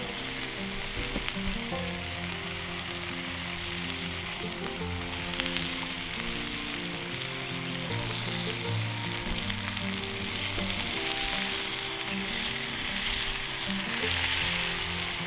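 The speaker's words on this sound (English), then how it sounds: "Starting to hear some sizzle action." Chicken cooking on an outdoor grill at a backyard campsite gives a steady, crackling sizzle that continues for over fifteen seconds, close and even in loudness, with a low hum running underneath and no talking.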